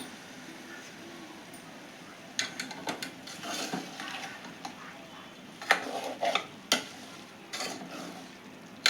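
Prawn curry stirred in a pot, soft background sizzle broken by clustered scrapes and knocks of a spoon against the metal, close and uneven, no clear speech.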